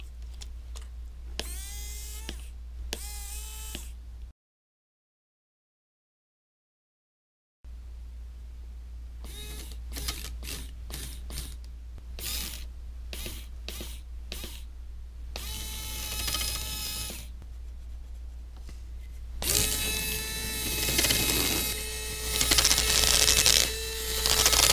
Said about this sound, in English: I have a button hooked up that will make this tiny little motor right here